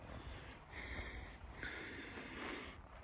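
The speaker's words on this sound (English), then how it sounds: "Lots of stuff to sniff, isn't there, Barks?" A dog sniffs in short quick bursts, close by, with a few breathy snorts over faint outdoor background noise.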